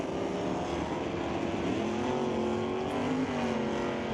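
Drag race cars launching off the start line at an NHRA Northwest National Open event, including a 283-cubic-inch car with a small carburetor, their engines a loud continuous roar with rising pitch throughout.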